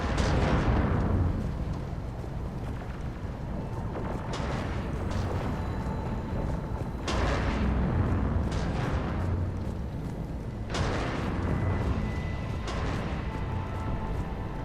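Heavy booming blasts repeat every few seconds over a constant low rumble, like distant cannon fire in a Mass Effect 3 battle scene.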